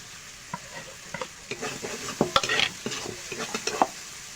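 Cumin and coriander paste with chili powder frying in a pan for a potol-prawn curry, stirred with a spatula; steady sizzle broken by irregular scraping, clinking strokes, close and fairly quiet, no voices.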